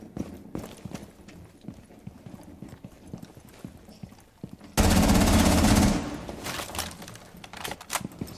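In Rainbow Six Siege, Twitch's rifle rattles off a dense, rapid burst of automatic fire, loud and close, amid scattered lighter footsteps and clicks of in-game action before and after.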